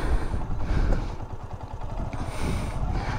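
A motorcycle engine runs steadily and close during a riding lesson near Puzhal lake, a low rumbling drone with a slight mechanical clatter and no big revs.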